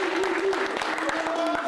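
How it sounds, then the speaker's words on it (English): Audience applause for the seniors of a high school football team, a dense, steady wash of clapping with crowd noise and a thin whistle-like tone running through it. "How about a round of applause for our seniors?"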